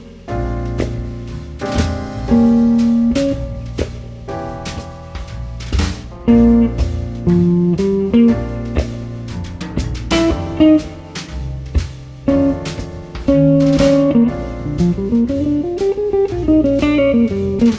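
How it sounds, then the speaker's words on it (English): A jazz blues guitar phrase played in a lesson: clear plucked single notes and short licks with bends and slides over a steady backing groove, close and loud, no talking. "how to do really cool but easy phrasing in a jazz blues."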